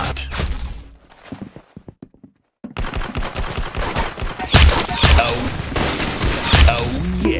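Rapid gunfire in the Roblox Arsenal shooting game, dense bursts of close, loud shots after a short lull, with quick clattering impacts between volleys.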